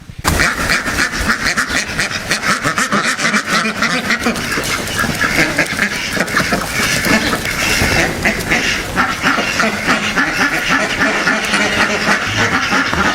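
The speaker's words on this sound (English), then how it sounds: "The livestock that I'm carrying in my hand right now is a duck." A live farm duck held in someone's hand quacks loudly and repeatedly, close up, over a continuous noisy background with a faint engine-like rumble.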